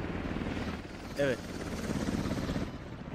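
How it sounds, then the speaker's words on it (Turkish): Helicopter in the tactical shooter game Squad, a steady low rotor drone running throughout while a voice briefly speaks over it. "Bu helikopter bizden mi?"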